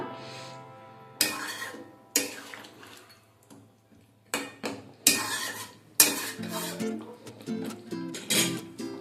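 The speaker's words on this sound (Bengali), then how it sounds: "সমস্তটা ভালোভাবে একবার মিশিয়ে নেব।" Chicken with spinach and garam masala stirred in a pot, a metal spoon scraping and clanking against the sides in repeated bursts, loud and close, with a faint cough.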